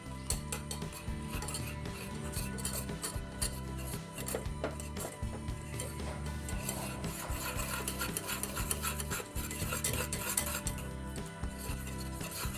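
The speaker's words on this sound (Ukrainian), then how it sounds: "варимо, помішуючи до загустіння. Мішаємо весь час." A spoon scrapes and stirs steadily around a pot, a continuous rhythmic rasping with faint clinks, no voices.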